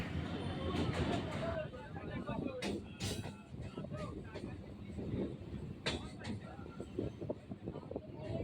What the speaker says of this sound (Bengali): টেন হালকা বাঁক নিয়ে ধীরে ধীরে ছুটে চলেছে